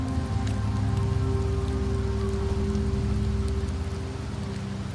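Rain in Septimont in the video game Wuthering Waves, a dense, steady patter on surfaces that stays loud and unbroken throughout, with no voices.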